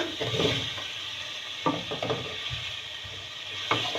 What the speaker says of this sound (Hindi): थोड़ा सा लहसुन अदरक को भून के, और इसके अंदर ये जो आलू हमने पीस काट के रखे थे ये